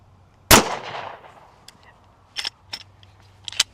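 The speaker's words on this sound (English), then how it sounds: "All right, firing." A 10mm full metal jacket round fired into a stack of books, one sharp loud gunshot with a decaying indoor echo, followed by a few lighter clicks and knocks.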